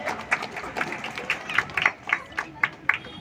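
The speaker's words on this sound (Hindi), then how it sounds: "ताली बजाइए, जोरदार ताली बजाइए।" A crowd claps at a village bicycle race prize ceremony. Scattered, uneven claps patter close by in a light, irregular rhythm, with no talking heard.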